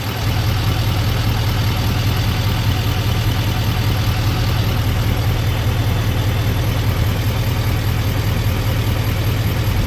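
A 2024 GMC Sierra 3500HD Denali heavy-duty pickup idles steadily, a loud, constant low engine rumble with a faint hiss and no changes in pace, alone without voices.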